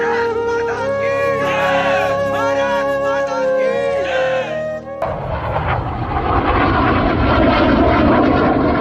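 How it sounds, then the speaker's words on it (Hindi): An LCA Tejas fighter jet flies at an air show. A loud, continuous engine roar fills the clip, shifting in tone partway through as the aircraft passes. Music plays over the first half. "नवंबर की 21 तारीख भारत का स्वदेशी फाइटर जेट LCA तेजस, एक और रूटीन फ्लाइंग डिस्प्ले, एक और शान से भरा एयर शो"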